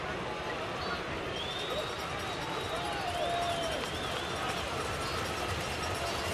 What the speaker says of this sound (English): Fans cheering for another strikeout.